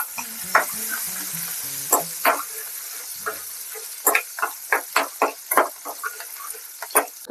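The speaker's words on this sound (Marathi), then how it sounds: "मिरची पूर्ण टाकून घ्या चांगली परतवायची आहे" Chillies sautéed in a pan for pasta, with a steady sizzle and repeated scraping, stirring clacks of a spoon against the pan, close and clear.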